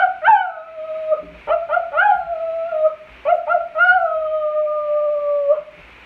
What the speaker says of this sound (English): if you hear the coyote off in the distant hills howling and crying,